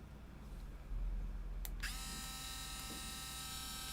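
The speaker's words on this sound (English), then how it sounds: "3 levels of amazing baby Dremel power, right? So, we're going to go to work just kind of smoothing this out here." A small Dremel rotary tool with a narrow cylindrical bit spins up loud and close, a steady high whine with bright harmonics holding after a brief start, smoothing down a part.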